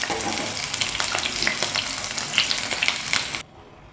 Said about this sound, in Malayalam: ഇതിനെ തിരിച്ച് മറിച്ച് വിട്ടൊന്ന് വറുത്തെടുക്കാം